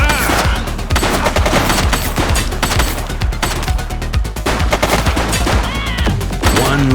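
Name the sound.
gunfire in the video game The Precinct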